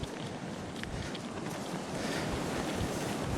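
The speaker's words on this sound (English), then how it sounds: "The wind is still blowing the sand straight down the beach" Strong wind roars steadily across an open beach on Fire Island, a broad continuous rush buffeting the microphone throughout, with no voices.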